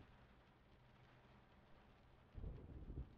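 Thunder rolls in the horror video game Layers of Fear, a deep low rumble that swells suddenly near the end over a faint steady bed of rain.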